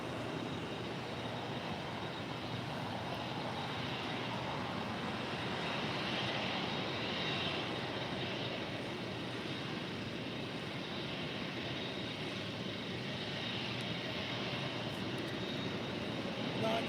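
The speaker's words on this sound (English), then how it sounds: "Austrian, the 777 200ER heading back to Vienna, flight 82, next departure on 25 right." Austrian Airlines Boeing 777-200ER jet departing for Vienna from runway 25 right, a steady distant engine roar holding level throughout with faint voices in the background.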